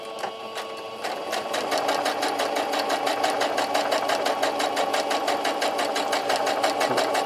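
A sewing machine stitches through a homemade fabric sponge, its needle hammering in a fast, even, mechanical rhythm that speeds up after a brief slower start, close and loud.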